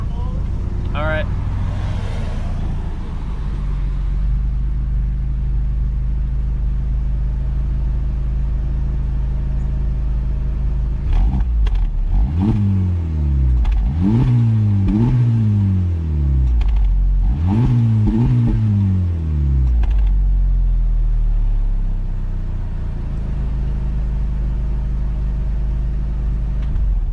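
A 2024 Audi RS3 and a 2023 Honda Civic Type R rev their engines from a standstill, three sharp rising-and-falling blips in quick succession after a low idle rumble, with voices talking over parts of it.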